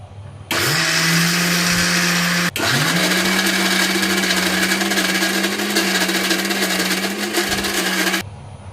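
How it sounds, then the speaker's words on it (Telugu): Kitchen mixer grinder blending soaked black gram with water into a paste: a loud, continuous whirring motor that starts suddenly, dips briefly once, then runs steadily for several seconds before stopping. "ఇలా నానబెట్టుకున్న మినపప్పు మిక్సీలో వేసి మిక్సీ పట్టుకోవాలి"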